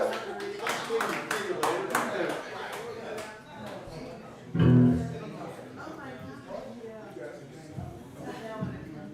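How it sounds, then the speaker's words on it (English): A small evening crowd at a Full Moon show in Godfrey, Illinois claps and cheers for a performer in a quick burst, a sharp swell that fades into scattered claps and someone talking. "So everybody give him a cheer."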